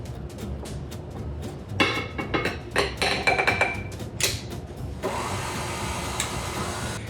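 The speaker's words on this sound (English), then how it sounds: "I'm just gonna add that flour mixture that I whisked together a few moments ago and beat it on low until it's combined" Electric mixer beating carrot cake batter on low as flour is added: a steady motor whir with uneven clattering bursts of the beaters against the bowl, moderately loud and close, with no talking.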